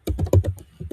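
Keys on a computer keyboard are pressed during data analysis work, a quick burst of several close, loud clacks within about a second, alone with no talk.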